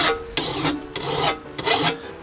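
A hand file rasping along a lawn mower blade in three firm strokes pushed away from the body, each a bright scraping burst with short pauses between, close and loud, no talking.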